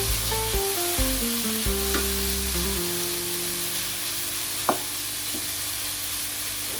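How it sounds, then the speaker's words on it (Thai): Oyster mushrooms dry-fry, sizzling and crackling in a hot Teflon pan while being stirred, with a few clinks of a utensil and a falling electronic beep sequence near the start. "นำเห็ดทั้งหมดเนี่ยลงไปกิวในกระทะก่อนเลยครับ ให้เขาแห้งเลยนะครับ"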